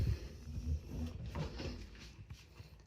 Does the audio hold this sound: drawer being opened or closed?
yes